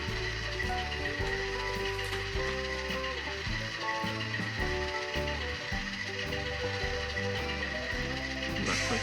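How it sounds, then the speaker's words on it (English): Fan sound from a sound decoder in an N scale Conrail B40-8 diesel locomotive, an Atlas Gold Line model with an ESU LokSound decoder: a steady, loud mechanical whir with layered tones and rhythmic clattering pulses, running continuously without talk. "F11 is fan sounds."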